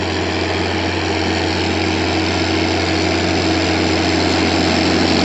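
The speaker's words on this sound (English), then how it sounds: "He's running my tractor." A heavy farm tractor engine drones steadily and loudly throughout, a constant low rumble with mechanical vibration and no change in pace.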